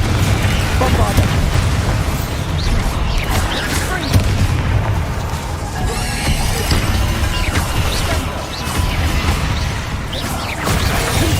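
Bombarda spell explosions in the Hogwarts Legacy video game burst repeatedly amid a chaotic magical duel, loud and near, with booming impacts, crashes and whooshing spell effects layered over one another and voices shouting in between.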